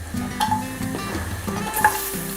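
Garlic sizzling in olive oil in a frying pan, a steady close hiss with intermittent stirring scrapes and clinks over it.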